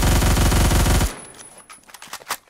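Automatic gunfire from a gun in the video game Phantom Forces, a rapid loud burst of shots for about a second that cuts off into scattered fainter clicks and thuds.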